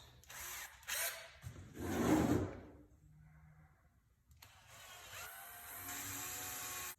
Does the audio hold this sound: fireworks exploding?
no